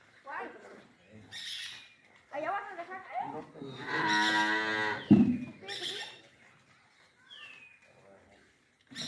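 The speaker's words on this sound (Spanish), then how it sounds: "Ya es famosa en la ordeña de vacas, Lupita." Cows on a ranch moo during milking, with a long, loud harmonic low in the middle of the clip and shorter calls around it, mixed with people talking nearby.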